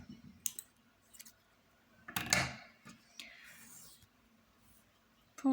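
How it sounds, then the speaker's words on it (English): Faint scissor snips cutting yarn while making a crocheted sitting cat, a few small clicks and one louder cut near the middle, with quiet handling noises and soft talk around them. "So we cut our yarn"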